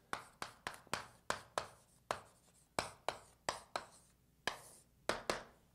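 Chalk or marker strokes on a board while a calculus problem is worked out, a quick series of about fourteen sharp, close taps and short scratches in uneven rhythm, with no talk over them.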